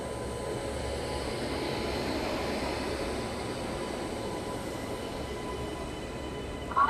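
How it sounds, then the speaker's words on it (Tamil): A brand-new LHB coach rake hauled by a Royapuram WAP-7 electric locomotive rolls into platform 7 at Madurai Junction, a steady broad rumble of wheels and carriages with a faint high tone near the end. "புத்தம்புது எல்ஹெச்பி ரேக்கோட வண்டி பார்த்தீங்கன்னா வேப் 7 ராயாபுரத்துடைய வேப் 7ஓட வண்டி பார்த்தீங்கன்னா இப்போ வந்து பிளாட்ஃபார்ம் 7 மதுரை ஜங்ஷனில் அரைவல் ஆகுதுங்க"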